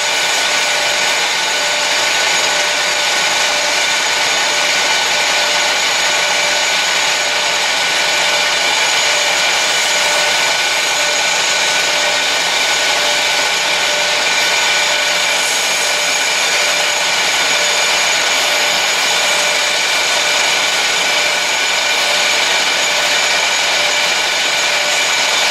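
Continuous steady whirring drone of a pen blank being sanded with sandpaper while it spins on a lathe, loud and unbroken for the whole stretch with no talking.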